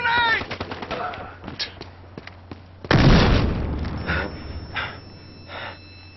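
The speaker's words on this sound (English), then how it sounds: "Toss on a grenade!" Grenade explosion in Battlefield Hardline: one sudden heavy boom about midway, set among scattered gunfire pops and a persistent low hum, with a player's voice in the mix.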